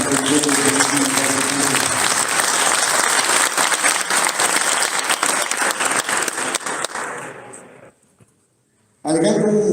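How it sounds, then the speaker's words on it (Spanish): Loud audience applause at a national economists' congress, dense crowd clapping that fades out, followed by a brief silence before a voice begins speaking. "démosle un fuerte aplauso a Ángel por estar con nosotros."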